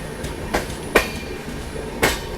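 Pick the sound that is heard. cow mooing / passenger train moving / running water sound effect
passenger train moving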